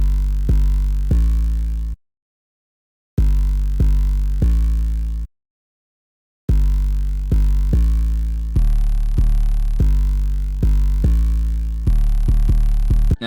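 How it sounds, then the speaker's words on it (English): Deep 808 bass from a drum kit plays a repeating pattern of booming, sustained hits for verses, with two short silent breaks and quicker notes near the end. "I also got another 808 for the verses."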